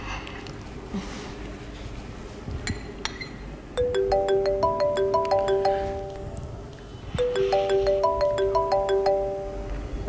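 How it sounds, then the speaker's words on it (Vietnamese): A mobile phone rings with an incoming call, a bright repeating melodic chime pattern playing in two bursts after a quiet indoor pause, clear and close with no talking over it. "Để anh ra ngoài nghe điện thoại chút nha."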